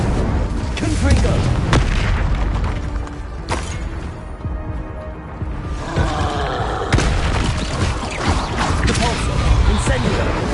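The Confringo explosive spell in Hogwarts Legacy lands as loud, booming blasts over a constant rumble of game effects, with sharp bangs scattered through the ten seconds and shouting in the mix.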